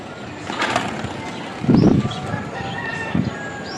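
Pet chickens just let out of their cage, giving a few close clucks and short calls, with one louder burst in the middle, over soft outdoor background noise.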